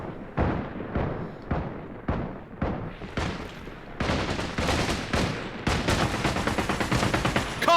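Gunfire in the video game Caliber rattles nonstop: loud, rapid bursts and volleys that grow denser and heavier toward the end, with no speech over it.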